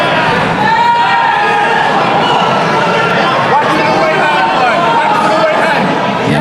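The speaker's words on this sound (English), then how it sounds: "Big roar from the crowd, and King Kong noises being made, cheering on their fighter" Crowd at a Cage Legacy MMA fight roaring and cheering for their fighter, a dense, continuous wash of voices and shouts that stays loud and sustained throughout.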